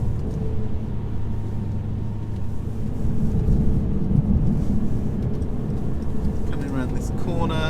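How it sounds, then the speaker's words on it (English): A 2017 Mercedes C200 Coupe drives with a low engine rumble heard from inside the cabin, surging slightly mid-clip during gear changes in Sports Plus mode, while someone talks over it. "Aggressive gear changes in Sports Plus."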